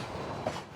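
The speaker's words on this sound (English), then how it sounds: "A coal-fired steam train rumbles through the wide-open prairie of the American West." Coal-fired steam train crossing open prairie in the American West, a faint, distant rolling rumble of railcars with soft clacking.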